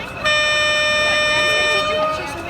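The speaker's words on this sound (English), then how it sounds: "Sound the horn." A miniature railway locomotive horn sounds one steady, loud, sustained blast lasting a couple of seconds, starting abruptly and fading slightly at the end.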